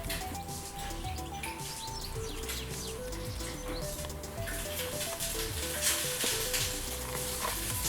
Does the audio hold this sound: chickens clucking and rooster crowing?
no